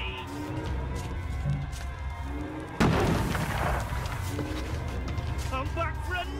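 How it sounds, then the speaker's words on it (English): Bombing explosions in the video game We Happy Few, with a sudden heavy boom partway through followed by a rumbling tail, while voices and game sounds carry on underneath. "They're bombing us again!"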